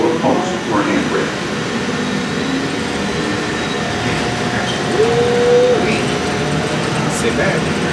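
An airport tram rolling toward the D gates, giving a continuous rumbling rail noise with faint metallic squeals and a short whining tone partway through.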